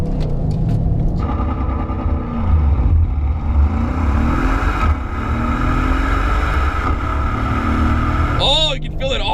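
A Mercedes E63 S sedan launching under launch control, engine roaring loudly as it pulls hard through the gears with rising pitch, heard from inside the cabin, with shift changes and a voice near the end.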